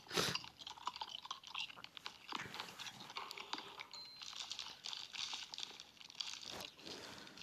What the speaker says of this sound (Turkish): Açlıktan tabak yiyen adam